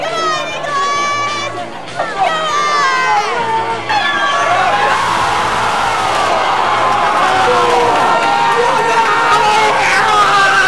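Football crowd of England fans cheering, whooping and chanting England over and over, loud and close, with overlapping shouting voices building into a sustained roar.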